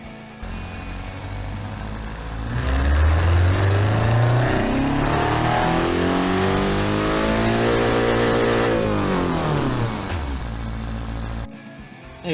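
Simulated rally hatchback engine in the car-building game Automation revving up through its range to about 7,000 RPM, holding high, then dropping back to idle, loud and close with no talk.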